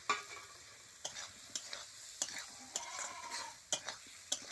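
Crab curry with taro and potato is sautéed in a pan, with a soft sizzle under regular, close scraping and clinking strokes of a spatula stirring about once a second.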